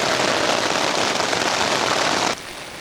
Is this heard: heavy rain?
yes